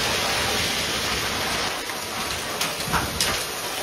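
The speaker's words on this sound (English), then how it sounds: "This is an intense hailstorm." An intense hailstorm at a campsite in New Zealand makes a loud, steady roar of pelting ice, a continuous dense hiss with a few sharper impacts near the end.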